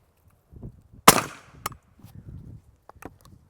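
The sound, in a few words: suppressed rifle shots through Dead Air Ghost silencer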